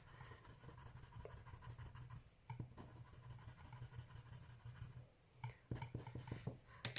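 Colored pencil scratching in quick up-and-down strokes across textured paper, faint and close, with a soft continuous scratch and a few sharper taps toward the end.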